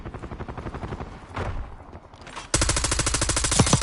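Rapid automatic gunfire in Warzone on Rebirth Island, a steady rattle of shots that briefly dips, then returns much louder and closer as a sustained burst.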